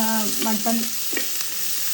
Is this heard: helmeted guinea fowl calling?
no